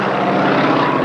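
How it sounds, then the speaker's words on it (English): A stunt propeller airplane performs a vertical roll at the Schenectady air show, its engine a loud, steady, droning roar that fills the short moment without pause. "vertically rolling that airplane from out in the late 20s and early 30s"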